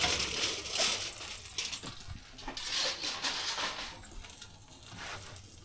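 Aluminium foil being peeled and crinkled off a dish of brown sugar baked pork chops, a steady papery crackle with brief rustles that carries on fairly close and fairly quiet.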